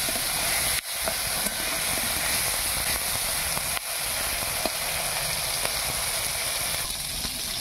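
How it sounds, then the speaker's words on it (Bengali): Masala-coated soybeans fry in hot oil, giving a steady close hiss with a couple of brief dips and faint clicks as pieces go in, no voices. "এবার আমি সোয়াবিনগুলো একটা একটা করে দিয়ে দেব। এবার আমি এগুলো ভেজে নেব।"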